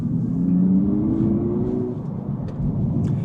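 An Abarth 600e electric car accelerates on a race circuit, giving a loud, steady rumbling drive noise with a rising whine through the middle, heard alone without speech.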